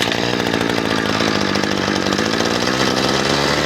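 RedMax weed eater with a new carburetor, its small two-stroke engine pull-started and running, giving a loud, close, rapid buzzing rattle that holds steady throughout.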